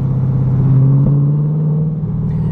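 Chevrolet Corvette C8 fitted with a Paragon Performance exhaust rumbles loudly and steadily up close, a deep droning engine note holding through a rev with a brief blip midway.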